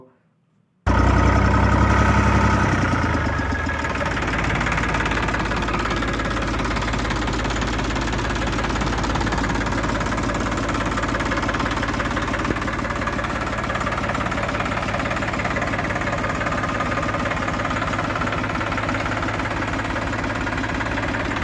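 A New Holland 3037 diesel tractor engine starts and then idles loudly and steadily, a constant rumbling knock close by throughout.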